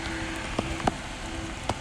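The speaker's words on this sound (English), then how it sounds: "I'm all wet in this in the rain." Steady rain falling outdoors around a walker, a continuous close hiss with a few louder drips, no talking.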